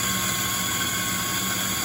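An espresso grinder runs continuously to clear its grinding chamber, a loud steady motor whine with a sustained high-pitched hum and no pauses, heard up close with no talking.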